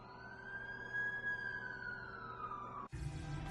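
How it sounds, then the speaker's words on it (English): An ambulance siren wails in a steady, drawn-out tone that slowly falls in pitch, loud and close, before giving way abruptly to a burst of broadband noise near the end. "That's the ambulance I called."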